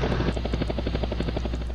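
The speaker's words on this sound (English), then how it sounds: "The helicopter makes its flight" A helicopter in Arma 3 flies close by, its rotor chop a loud, rapid, steady thudding beat over a continuous engine drone.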